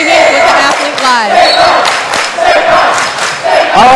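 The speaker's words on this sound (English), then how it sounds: "I can't hear, the crowd is so loud" Loud, continuous crowd roar and cheering fill a packed gym at a high school boys and girls basketball game between West Homestead and Nicolet, with shouts and voices swelling throughout and occasional thuds beneath.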